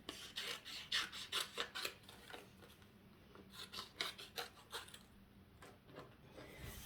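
Scissors cut around a piece of vinyl in repeated rhythmic bursts of rasping snips, close and quiet, with short pauses between runs of cuts and no talk.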